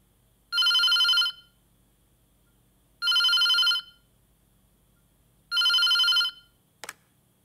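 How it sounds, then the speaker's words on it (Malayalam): A telephone rings three times in even, bright electronic bursts separated by pauses, loud and close in a quiet room, followed by a brief click. "ഫോൺ കേട്ടു, ഞാൻ എടുത്തോളാം."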